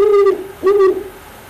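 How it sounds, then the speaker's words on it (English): Two deep, hooting calls from a great horned owl, each a short rounded hoot with a slight swell, close and clear against a quiet background. "So I'm gonna go ahead and play the call of the great horned owl for you."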